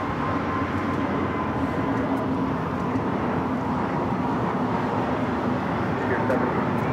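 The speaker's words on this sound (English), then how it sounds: "This is Frontier, flight 1756, taking off to Houston Intercontinental on the A320 Neo Cliff the Mountain Goat livery" A Frontier Airbus A320neo taking off from runway 25 left at Los Angeles International Airport, heard as a loud, steady broadband jet roar that holds without a break from start to finish.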